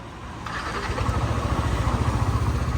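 A Yamaha NMAX 155 scooter with 62,000 km on it cranks and starts, then settles into a close, loud, pulsing idle with a steady rhythmic throb.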